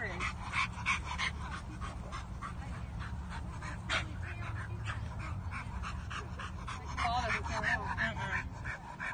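A dog pants rapidly and whimpers close by, a quiet continuous rhythm of breaths with soft whines, in a rescue or adoption setting; faint background noise throughout.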